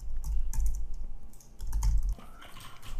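Brisk typing on a computer keyboard as a test name is entered into load-testing software, close rapid clacks in uneven bursts with short pauses and no speech.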